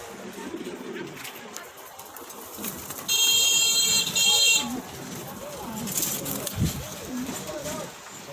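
Pigeons, a pair of Blue Bar Sirazi hens in a pigeon sale setting, give low soft coos under a steady background murmur, with a loud bright tonal burst partway through.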